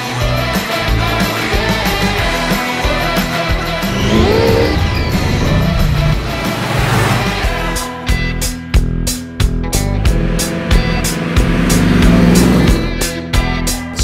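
An old truck-style car with a fast engine runs loudly up close, a deep rumbling idle swelling into revs, then choppy pulsing exhaust toward the end.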